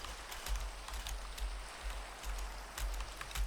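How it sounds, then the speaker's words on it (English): Steady rain falls in a Minecraft world, a continuous hiss of drops on surfaces with faint low rumbles underneath, heard alone without talk. "It's raining."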